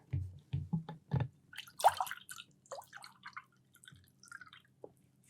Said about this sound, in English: I pour it in like that